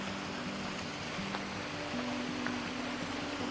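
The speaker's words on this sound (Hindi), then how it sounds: "पूरा ग्रीन और बीच में रॉक्स है, उसमें से पानी जा रहा है" A mountain stream on a trail between Mürren and Winteregg in Switzerland rushes over rocks in a steady, dense wash of water noise with no breaks.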